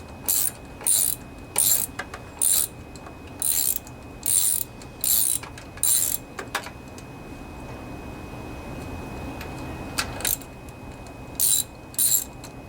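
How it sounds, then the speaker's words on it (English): Ratchet wrench loosening a spark plug on a 24 HP Briggs engine of a Craftsman riding mower, with rapid bursts of clicking pawl strokes repeated in a steady rhythm, close and clear, then a pause before a few more bursts. "Go ahead and take out the spark plug, because I'm going to replace that"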